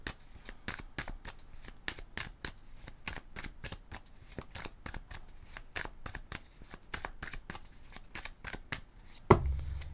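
A tarot deck is shuffled in a long run of quick, crisp riffles and flicks, close and quiet, ending with a single sharper knock as the deck is cut.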